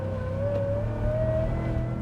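Supercharged gas 7.3 V8 in a Ford F350 revving, a rising supercharger whine riding over a deep steady engine rumble, close and loud for a couple of seconds without talk.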